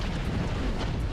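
A missile strike in MechWarrior sounds as a dense, rolling explosion rumble that fills the whole brief moment at steady loudness.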